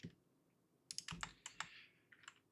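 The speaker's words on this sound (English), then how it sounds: "arrow keys on my keyboard" Arrow keys on a computer keyboard are tapped during design-software work, giving a quiet, uneven run of light clicks that bunch into short bursts.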